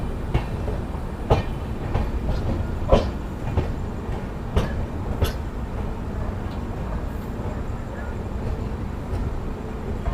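Train rolling into Bareilly City station platform 3, a steady rumble with intermittent clacks and thumps of wagons over rail joints, fairly close, no talk.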